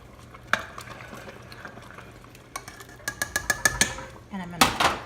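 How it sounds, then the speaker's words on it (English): Kale, white bean and sausage soup at a rolling boil is stirred in a pot, a spoon knocking and scraping in a quick run of clanks against a soft bubbling background, ending in louder clatter. "Okay, the soup has come up to a rolling boil."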